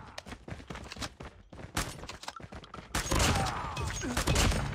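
Rapid shotgun blasts and thumps ring out in a video game firefight, with dense overlapping shots and a louder, sustained burst of gunfire and clatter toward the end.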